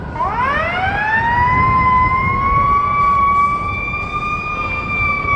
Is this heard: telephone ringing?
no